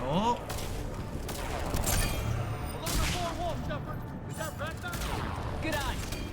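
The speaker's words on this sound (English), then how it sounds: "We got company! Light him up, Shepard." Rapid video game gunfire crackles through a firefight in bursts over a busy mix of effects, with characters talking over it.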